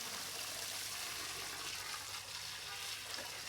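Water pouring steadily from a pump set in a home backyard garden, a continuous broadband splashing rush that stays even and close throughout, with no talk.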